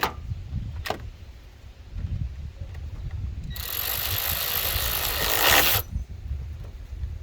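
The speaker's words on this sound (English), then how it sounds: "Secure both with the 10mm bolts attached to the terminals." A 10mm bolt tightened onto a car battery terminal on a Honda Accord 2.4L, heard as a close, steady whirring ratchet lasting a couple of seconds, with a few soft clicks and knocks before and after.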